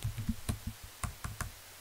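Keys clack on a computer keyboard as Cisco router commands are typed, a sparse run of about eight distinct close taps with uneven gaps, quiet and alone without speech.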